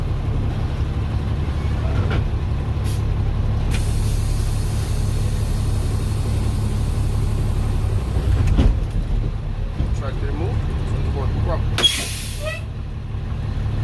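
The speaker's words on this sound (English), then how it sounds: "So I'm gonna release my truck parking brake, and I'm gonna try to move my truck." Inside a truck cab during a CDL pre-trip brake test, an engine idles with a steady low rumble while short sharp hisses of air brakes sound as the parking brake is released.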